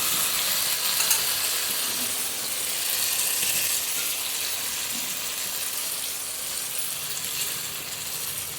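Tomato and potato sizzle and fry in a pan with a steady, crackling hiss, close and continuous, with occasional light stirring clinks.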